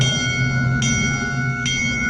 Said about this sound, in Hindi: मंदिर की घंटी लगातार तेज हो रही थी।